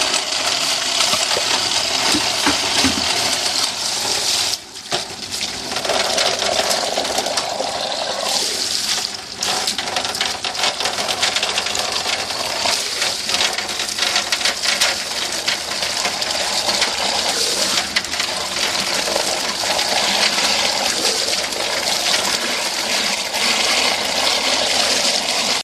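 An InSinkErator garbage disposal in a kitchen sink grinds compost scraps with rainwater, giving a loud continuous churning, watery roar that runs almost unbroken, with a brief dip near the start.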